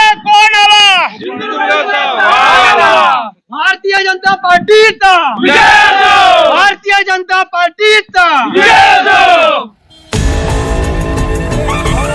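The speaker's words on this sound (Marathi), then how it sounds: "मोठ्या प्रकारात जल्लोष इथे व्यक्त करत आहेत" At Shirshinge, a crowd of BJP workers celebrates Narayan Rane's Lok Sabha election win. Loud, drawn-out shouted chants and cheers rise and fall in bursts, and a blast of music cuts in near the end.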